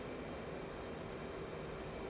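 F/A-18 Hornet jet engine in a DCS combat flight simulator dogfight, a steady, loud broadband roar with a low hum, continuous throughout without talk.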